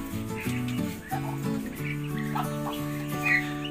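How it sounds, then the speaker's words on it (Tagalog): Native chickens in a backyard farm cluck in short bursts through the whole stretch, fairly close and steady, with no talking. "Ito isa nating native chicken."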